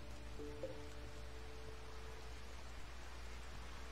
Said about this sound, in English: Every time the friendlies come, it rains on them